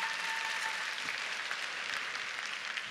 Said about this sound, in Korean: 작가님께 한번 박수를.